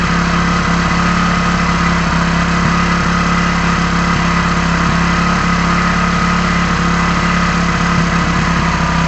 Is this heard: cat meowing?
no